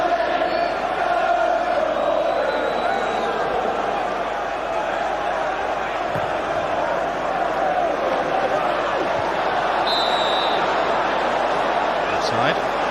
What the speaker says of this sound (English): The biggest Premier League crowd of the season anywhere.